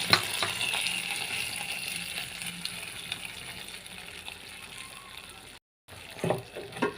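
Steady sizzling and crackling of an oil tempering frying in a kadai for horse gram charu, fairly close, with a brief silent gap near the end before a few stirring clatters.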